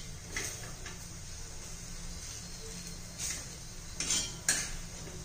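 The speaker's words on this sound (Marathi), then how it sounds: "हे पहा आता पुन्हा झाकण काढून घेऊया." A metal lid comes off a pan of vegetable besan chilla, a gram-flour pancake, with a few light clinks over a soft, steady sizzle and hiss.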